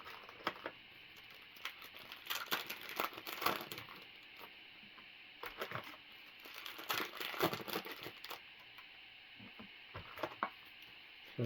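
Optic football card pack wrappers being torn open by hand, giving repeated close crinkling and crackling foil bursts in clusters, with short quiet gaps between packs.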